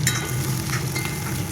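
Chopped onion with green chilli frying in mustard oil in a pan, a steady close sizzle with soft stirring scrapes running throughout.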